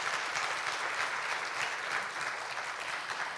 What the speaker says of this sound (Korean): 귀한 축하 말씀해 주신 네 분께 다시 한번 감사의 박수 부탁드리겠습니다.